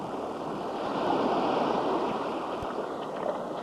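Ocean water at Punta Catedral (Cathedral Point), Costa Rica, gives a continuous broad wash of surf that swells gently and stays steady, with no voices.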